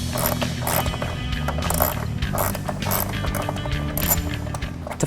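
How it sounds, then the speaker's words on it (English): Ratchet wrench backing out an 8mm bolt from the active grille shutter of a 2015-2016 Ford F-150, with steady rapid clicking throughout, close and fairly loud, with no talk. "There's an 8mm bolt dead center in the shutter that needs to be removed as well."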